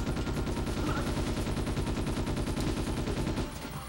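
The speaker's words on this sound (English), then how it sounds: "Oh, I just pulled out the submachine gun." A submachine gun fires in the video game Ghost in the Shell: S.A.C., a rapid, evenly spaced stream of loud shots in one long sustained burst that eases off near the end.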